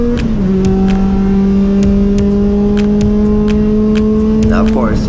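Time-attack race car engine held in third gear at Calabogie Motorsports Park, a loud steady drone with a slowly rising pitch and a brief rev change near the end, heard from the cockpit.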